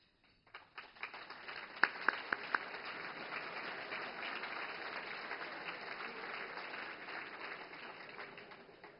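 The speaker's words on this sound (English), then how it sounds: "I think she deserves her own clap." Audience applause for the Premier of Alberta at a Calgary chamber event, a few scattered early claps swelling into steady, fairly distant clapping from a large room that gradually tapers off.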